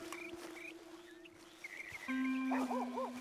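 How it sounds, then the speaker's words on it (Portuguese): A few short, faint dog yips and whimpers in the video game Red Dead come near the end over a sustained musical drone and scattered electronic chirps. "E para minha surpresa, o meu cachorro urso me seguiu."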